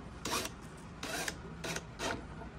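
A hand driver slowly tightens bolts on a PERLESMITH full-motion TV wall mount, making four short rasping, grinding turns close up against a faint background.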